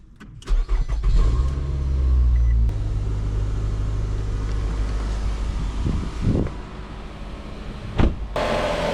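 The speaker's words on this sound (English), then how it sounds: "let me just start it up real quick and make sure the compressor clutch is coming on" A 2017 Nissan Altima engine cranks and catches near the start, then settles into a steady, loud idle with a low hum. A slight shift in tone partway through may be the A/C compressor clutch engaging, and a few clicks come near the end.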